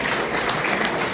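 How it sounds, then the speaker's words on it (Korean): A church congregation claps together in steady, dense applause that fills the whole short moment evenly, close and loud with no pauses. "하나님께 감사의 박수를 올려드립니다."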